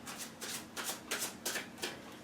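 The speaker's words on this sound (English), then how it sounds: "I will shuffle a little bit more for you on camera" Tarot cards being shuffled by hand in a riffle of quick papery bursts, about six evenly spaced rustling swells over a couple of seconds, close and moderately loud with no talking.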